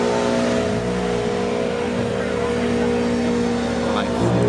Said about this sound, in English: we asked the Rolls Royce to do a burnout